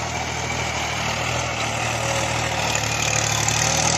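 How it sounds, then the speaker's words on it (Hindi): A New Holland 3032 35 hp tractor running in first high gear, a steady close diesel drone with a low rumbling hum and broad mechanical noise, unchanging throughout with no talk. "अब ये ट्रैक्टर पहले के हाई में चल रहा है।"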